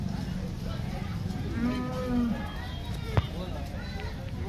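Cattle low at the busy Loni cow market in Maharashtra, with a couple of drawn-out moos and a short sharp knock rising over continuous crowd chatter and nearby talking.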